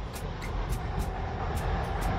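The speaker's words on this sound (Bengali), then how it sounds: "অনর্গল এখান থেকে ট্রেন চলেছে।" Train running past near the Khirai flower fields, a steady rumbling roar with rhythmic clacks of wheels over rail joints, fairly close and continuous throughout.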